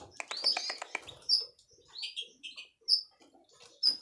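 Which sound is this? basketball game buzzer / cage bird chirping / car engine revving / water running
cage bird chirping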